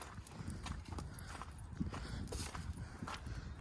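Cattle let out to graze walk with soft, irregular hoof clops on the ground, faint and somewhat distant amid a continuous outdoor rustle.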